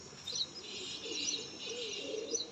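Sialkoti pigeons in a breeding loft, soft continuous cooing and faint chirps at moderate distance, steady and low in level with no talking.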